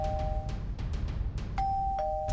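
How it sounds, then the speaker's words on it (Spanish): Doorbell in Hello Neighbor recreated in Minecraft, a clear electronic ding-dong chiming twice among a rapid series of clicks and knocks, close and loud, with no talk. "toca el timbre"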